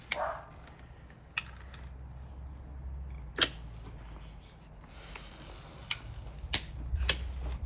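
A caulk gun clicks as its trigger ratchets while caulking cedar shingles on a shed wall, sharp isolated clicks spaced irregularly over a quiet low background hum, close by with no talking.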